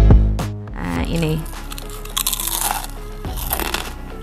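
A crisp kembang goyang sesame cookie, fried and traditional, is bitten with a loud, close crunch followed by a few scattered crackling chews, while someone talks faintly in the background.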